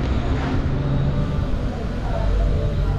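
A Hyundai Starex engine idles with its drive belt removed, a steady low rumble filling the whole stretch, with people talking nearby.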